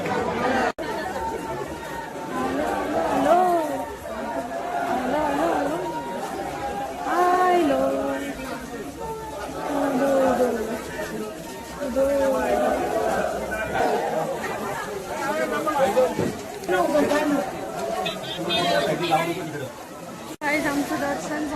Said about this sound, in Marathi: बघा किती गर्दी आहे बघा.